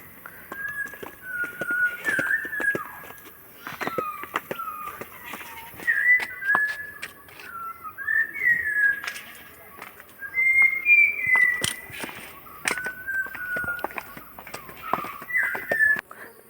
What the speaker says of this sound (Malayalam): പിന്നെ കിളികളുടെ സൗണ്ടൊക്കെ നിങ്ങൾക്ക് കേൾക്കുന്നുണ്ടാവും വിചാരിക്കുന്നു.